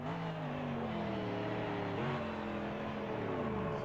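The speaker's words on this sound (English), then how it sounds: "Oh, you shifted down." A GT3 Cup race car in a racing video game at the Brazil round, its engine droning steadily and loudly alone, with a brief dip and shift in pitch partway through as it drops a gear.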